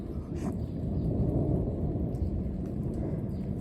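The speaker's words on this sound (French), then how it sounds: "C'est le troisième orage qui passe" Thunder from a violent, highly electric thunderstorm over Clermont-Ferrand rumbles low and continuously, a deep rolling roar that holds steady without voices.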